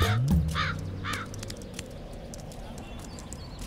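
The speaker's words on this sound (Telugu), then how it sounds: "హే, కాకొచ్చింది." A crow caws a few times near the start, harsh calls standing out over a busy outdoor background with voices and a steady low hum, the cawing fading after the first second and a half.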